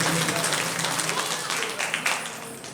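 Applause from an audience welcoming a guest onto the stage at a Shrimad Bhagwat Mahapuran religious gathering in India, a steady broadband patter of many hands that fades slightly toward the end, with some voice mixed in.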